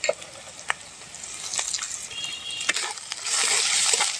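Spice paste of green chilli, ginger-garlic paste, turmeric, chilli powder and salt sizzles as it is sautéed in a pan, a soft crackling hiss punctuated by sharp utensil clicks and scrapes, growing louder toward the end.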